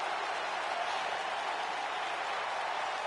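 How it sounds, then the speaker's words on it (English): A wrestling crowd cheers and roars steadily for Elias's ring entrance, a dense, continuous wash of arena noise with no pauses or clear voices standing out. "Listen to the pop there, the crowd coming alive to walk with Elias."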